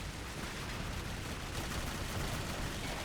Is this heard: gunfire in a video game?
yes